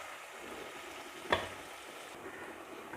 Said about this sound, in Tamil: இப்போ பாருங்கள், வெங்காயம் நல்லா வதங்கிக்கிட்டு இருக்கு